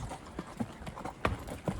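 Horse hooves clip-clop in a steady, unhurried walking rhythm on a trail at Dawson Butte Open Space near Castle Rock, Colorado, the hoofbeats moderately close with light outdoor background.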